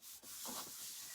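A Dollar Tree sanding sponge rubs over paper edges on a craft board for a moment, producing a soft, close, continuous scratchy swipe with no talking.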